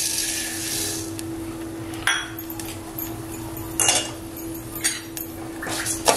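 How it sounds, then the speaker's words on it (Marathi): Rice poured into hot ghee in a preheated cooking pot for rice kheer, a soft steady sizzle with a few sharp metallic clinks and scrapes against the pot. "तूप टाकलंय, तूपही गरम होत आलेलं आहे। तर आता हे तांदूळ आहेत ना ते टाकते।"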